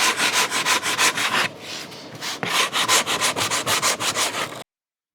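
Coarse sandpaper rasps back and forth over the wooden aileron of a scratch-built RC plane in quick, rhythmic strokes, close and loud, with a short pause midway before the strokes resume and then stop.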